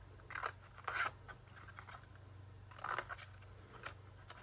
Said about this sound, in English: I'm going to trim my four corners, so that way we can fold the lid together.